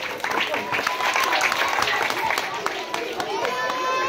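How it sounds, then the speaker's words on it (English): Children at a talk against child abuse give themselves a round of applause, with busy, scattered clapping and crowd noise filling the room steadily throughout. "Now give yourself a round of applause."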